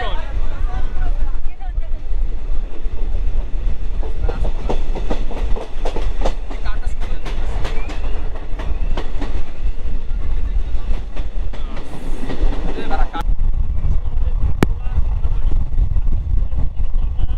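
A passenger train rumbles across the Nashipur rail bridge between Murshidabad and Azimganj Junction, a loud, continuous roar with steady clickety-clack of wheels over the joints, close by, with faint voices in the background.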